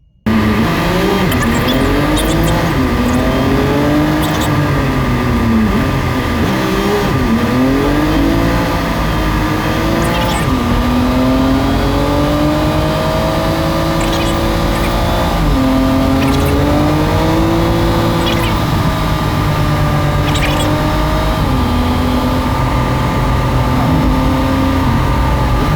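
A truck engine sped up to five times normal speed, so it whines and revs like a high-pitched motorbike, loud and close, rising and falling continuously for about twenty-five seconds with no talking.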